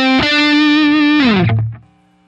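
A heavily distorted lead guitar note plays loud through a Mesa Boogie Dual Rectifier tube amp. It sustains with a buzzing edge, slides downward, then cuts off into a short fading tail.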